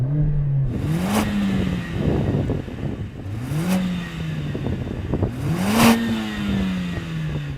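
Mercedes-AMG A45 engine revved three times in a row, each blip rising sharply in pitch then falling back to a steady idle, fairly close and loud with no talking.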